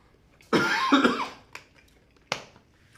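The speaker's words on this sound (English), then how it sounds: "I'm gonna cough." A single close cough bursts out, followed by a couple of small clicks or taps in an otherwise quiet room.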